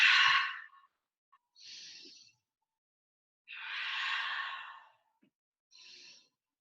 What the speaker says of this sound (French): Respiration du lion si vous voulez.